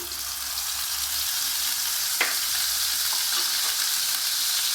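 Ground onion and green chilli paste fries in hot mustard oil in a kadai, a loud, steady, close sizzle that runs unbroken, with a single soft clink of a utensil partway through.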